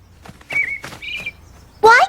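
A cartoon bird at a garden bird bath gives a few short, clear chirps and a brighter final trill, spaced out over a couple of seconds against quiet surroundings.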